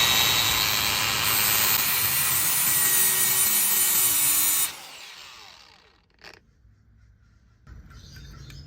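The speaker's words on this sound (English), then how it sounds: "Easy fix with a grinder though." Angle grinder cutting away metal on an alternator bracket of a 2004 Honda Civic, a loud continuous high-pitched whine for several seconds that abruptly stops, followed by quieter clanks and handling noises.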